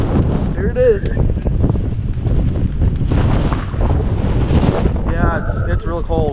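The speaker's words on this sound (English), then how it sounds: "where did this wind come from?" Strong, cold gusting wind roars across the microphone on a fishing boat out on Lake Erie, loud and constant, with people talking over it.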